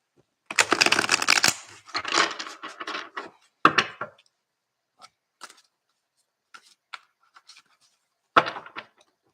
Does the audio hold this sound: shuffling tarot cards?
yes